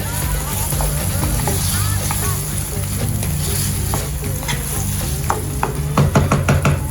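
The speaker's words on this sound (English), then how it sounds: "So next, we go in with our chopped tomatoes. Go with our chopped tomatoes. Just give it a little bit of a stir." Chopped tomatoes hit hot oil in a pot for a Nigerian egg sauce, giving a loud, steady sizzle with scraping stirs that get more frequent and louder toward the end, and no one speaks.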